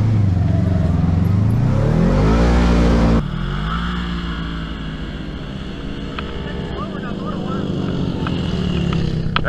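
A Can-Am side-by-side engine revs loud and close, its pitch climbing steadily before cutting abruptly and settling into a rougher, lower drone, with people talking over it.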